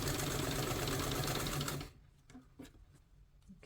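A sewing machine stitches along the folded edge of a two-piece collar, running in a loud, steady burst for about two seconds before stopping, followed by faint handling noises.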